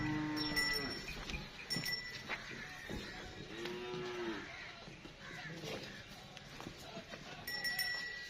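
Friesian Cholistani cross cattle at a livestock sale in Pakistan, with a few clear moos rising over busy crowd murmur and scattered voices nearby.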